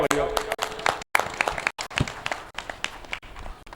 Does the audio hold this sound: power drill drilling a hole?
no